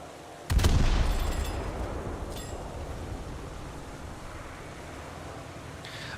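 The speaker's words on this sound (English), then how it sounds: "By shooting it with the guns." Boat guns firing at a coastal boat in War Thunder, starting with a loud, close burst of shots that fades into a long, rumbling roar. A brief second volley follows, all without speech.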